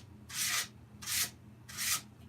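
A wooden tree stump is sanded by hand with the grain in three slow, even strokes. Each stroke is a close, soft, breathy rasp, with short quiet gaps between them.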